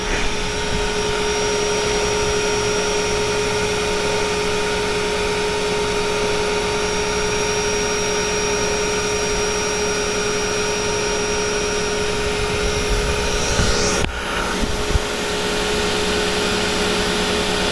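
Creality CR Touch-equipped 3D printer running a bed-leveling routine, its stepper motors and cooling fans humming steadily and evenly throughout, with a brief shift in the whine near the end as the nozzle reaches the bottom of its travel.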